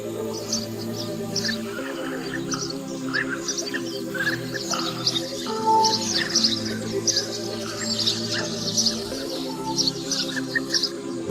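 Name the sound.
carmine bee eater calls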